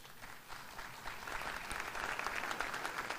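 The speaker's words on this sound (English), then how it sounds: "Let's give him a round of applause." A school event audience gives a round of applause for the school board chairman, a soft, dense wash of clapping that swells slightly and holds steady, somewhat distant.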